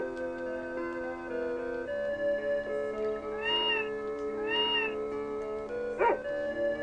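Cartoonish cat meows from the video game Tales of Phantasia sound twice over a steady game music bed, each a short rising-falling call, followed by a brief chime.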